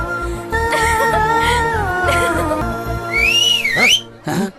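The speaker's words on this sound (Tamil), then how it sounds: "தாவேகா தொண்டர்கள் பனையூர் அலுவலகத்தில் விசிலடித்து கொண்டாட்டத்தில் ஈடுபட்டிருக்கிறார்கள்." Party supporters celebrate at a political party office in Panaiyur with loud, sustained whistling, several overlapping tones and rising swoops, ending in sharp bursts near the close.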